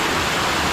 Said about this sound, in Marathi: हे इकडून असं पाणी शेताकडे चाललं आहे